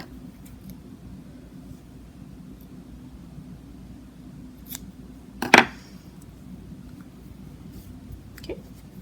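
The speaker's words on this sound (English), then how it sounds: "So I'm just going to cut our yarn." Scissors snip through crochet yarn in one sharp, close cut in a quiet room, with a few faint rustles and handling sounds before and after.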